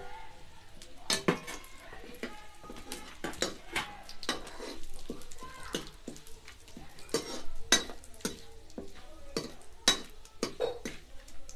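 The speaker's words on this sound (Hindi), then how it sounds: "घी मेरा गर्म हो गया है, मैं इंग ले रही हूँ, दालचीनी, लाल मिर्च, तेज पत्ता, जीरा ये इकट्ठे गेर दूंगी" Whole spices (asafoetida, cinnamon, dried red chili, bay leaf and cumin) go into hot ghee in a pan, giving a soft, quiet sizzle broken by repeated metallic clinks and scrapes of a stirring spoon.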